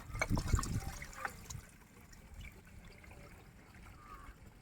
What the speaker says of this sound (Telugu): తలకాయ కూరను అయితే రెండు మూడు సార్లు కడుక్కోవాలి